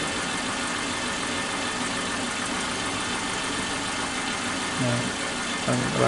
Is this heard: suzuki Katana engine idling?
yes